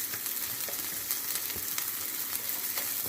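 Onions and green peppers sauté in a pan with a steady, close crackling sizzle and small scattered pops, with no voices over it.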